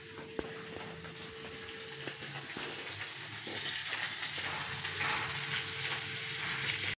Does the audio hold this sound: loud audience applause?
no